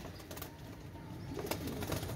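A baby pair of Pakistani pigeons cooing softly indoors, low repeated coos over a steady background murmur with faint chirps, no talk.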